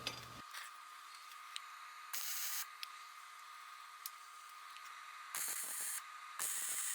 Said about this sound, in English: Now we've got a couple more welds on this.